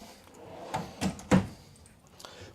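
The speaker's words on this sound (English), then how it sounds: "a little drawer here that you can pull out" Small cabinet drawer in a 2019 Flagstaff Classic 5th wheel trailer pulled out, a few short wooden knocks and a sliding thud close by, against a faint room hum.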